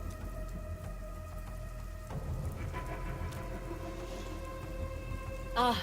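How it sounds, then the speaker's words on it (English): Rain drips and patters steadily in a video game, over a soft bed of sustained musical tones, with a brighter burst near the end. "Rain dripping right there, too."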